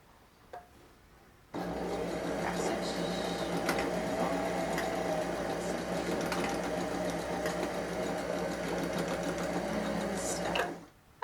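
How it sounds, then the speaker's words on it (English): A sewing machine runs steadily for about nine seconds, sewing back-and-forth stitches through elastic on the sides of a skirt, a loud close whir that starts and stops abruptly. "do a couple of forward and backward stitches so it really adheres to the elastic sides"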